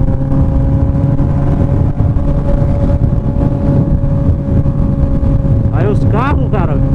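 Honda CB 1000R motorcycle exhaust while riding, a loud steady engine drone mixed with wind rush at the microphone, continuous throughout, with a brief sweeping whine near the end.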